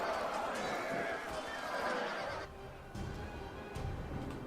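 Horses neigh and whinny amid the clamour of a large medieval cavalry battle in the strategy game Medieval Kingdoms 1212, with a dense, continuous roar of fighting that eases slightly partway through.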